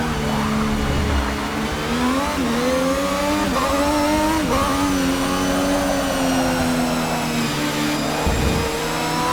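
An F1 car in Forza Motorsport 6 at the Nordschleife screams at high revs without pause, its engine pitch rising and dipping through gear changes, loud and alone.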